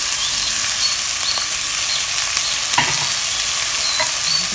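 Onion, garlic and celery sizzle in a pot for white chicken chili, a loud, even hiss close by with occasional faint clinks of a utensil.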